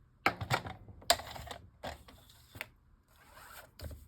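A paper trimmer slices a journal cover, giving several close, quiet rasping and clicking slides separated by short pauses, with no voices.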